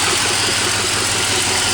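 A Plymouth 318 V8 runs without its exhaust manifold gaskets, giving a loud, close, steady idle with a rough, pulsing, rapid exhaust chatter and no talk.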